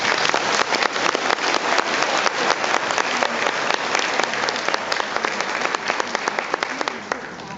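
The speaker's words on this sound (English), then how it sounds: "Please join me in a round of applause for Colleen." Sustained applause from a conference audience at an awards ceremony in Auckland, a dense, steady wash of many hands clapping at even loudness throughout, with no pauses.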